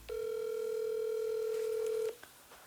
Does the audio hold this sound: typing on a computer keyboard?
no